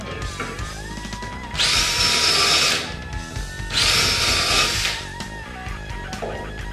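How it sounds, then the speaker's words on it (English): An impact driver drives screws into 1x wooden planks for a mortar rack, two loud buzzing hammering bursts of about a second each, up close, separated by quieter handling noise. "This impact driver really saves me."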